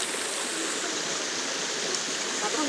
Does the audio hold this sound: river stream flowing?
yes